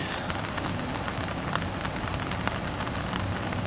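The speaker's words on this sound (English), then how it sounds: "As you can see, it's raining" Steady rain pours down on a foggy, dark morning downtown, a dense continuous hiss of drops hitting surfaces, with no voices.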